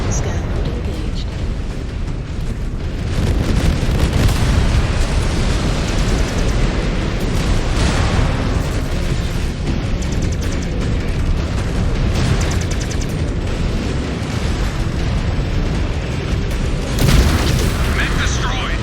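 A mech is destroyed in the video game MechWarrior 5: Clans. A long, dense rumble of explosions and booms plays throughout at steady loud volume, with a sharper blast near the end.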